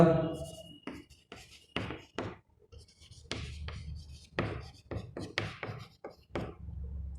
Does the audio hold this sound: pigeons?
no